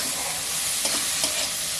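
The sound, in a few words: spice paste (masala) being fried and stirred in a pan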